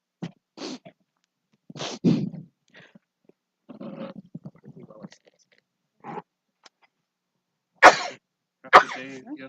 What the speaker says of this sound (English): I'm pretty sure part of the reason I'm sneezing is all the stuff we stirred up